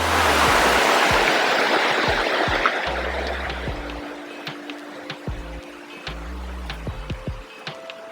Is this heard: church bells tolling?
no